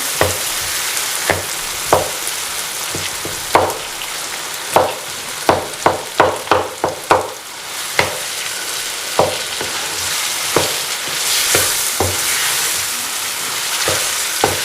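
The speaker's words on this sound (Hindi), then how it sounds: "और साथ ही हम इसके ये आलू भी डाल देंगे। अच्छी तरह मिक्स करना है इनको।" Potatoes tossed into curry masala in a frying pan, a steady sizzle of frying under repeated sharp scrapes and knocks of a spoon stirring against the pan, close and clear with no talking.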